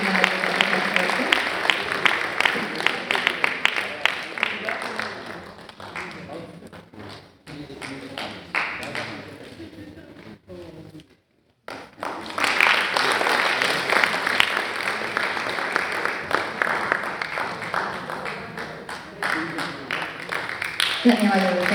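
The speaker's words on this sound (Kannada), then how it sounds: "ಜೋರಾದ ಚಪ್ಪಾಳೆಯಲ್ಲಿ ಸರ್ವಾ ಪಾಟೀಲ್" An audience at a drama show in a tent claps loudly and steadily, a dense crowd of hands that thins and dips near the middle before swelling again, with voices mixed in.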